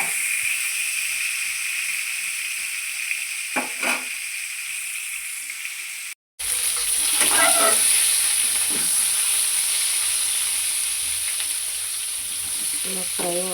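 Slices of bitter gourd (kakarakaya) frying in oil in a pan, giving a close, steady sizzle and hiss with occasional stirring scrapes and a brief cut partway through.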